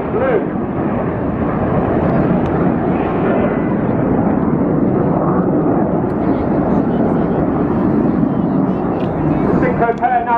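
Red Arrows jets in a flying display at an airshow, a continuous loud roar of engines filling the whole stretch, with crowd or commentary sounds mixed underneath.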